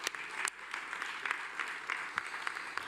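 An audience at a public debate on the future of public schools applauds, steady sustained clapping from many hands with sharp individual claps standing out, fairly distant, with faint voices underneath.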